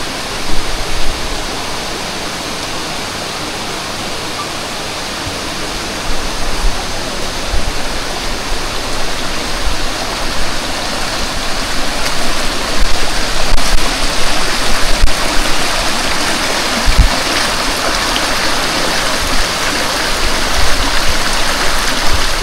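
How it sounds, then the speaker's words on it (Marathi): A forest stream rushes over rocks at a trail crossing on the trek from Panhala to Pavankhind, a steady, full, close roar of flowing water that swells slightly louder midway and continues without a break. "हे बघा समोर ओढा दिसतं. हा ओढा लागलेला आहे."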